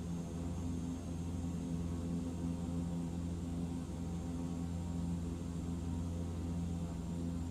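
A water-bomber plane's engine drones steadily in flight in Microsoft Flight Simulator 2024, a constant loud hum with strong low tonal bands and no change across the stretch, no speech.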